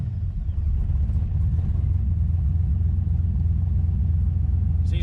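A car engine, recently repaired for oil and fuel leaks and set up to run on E85, idles steadily with a deep, even low rumble, close and constant throughout with no voices.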